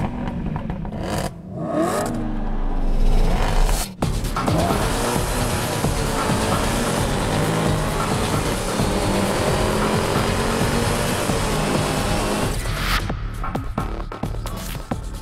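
Racing cars in a PlayStation 4 racing game roar past in a loud, sustained rush of engine noise, revving and whirring steadily with brief dips and surges, with no one talking.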